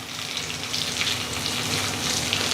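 Garlic and pieces of dried red chilli sizzle in hot oil for dal tadka, a steady, close crackling hiss that holds without a break.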